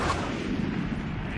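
Marshall sniper rifle fired as Jett in a video game, a couple of sharp booming shots with rumbling tails, close and loud over a noisy game background.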